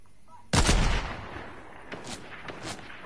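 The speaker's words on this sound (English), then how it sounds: "keep on shooting me with that gun" Video game gunfire in a one-on-one match, a loud burst of shots that then tails off, followed by a few quieter single shots and one last report.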